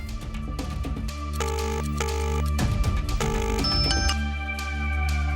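Phone placed on speaker for an outgoing call, repeating electronic ringback tones in short bursts with pauses, heard over a steady background of music or tones and no speech.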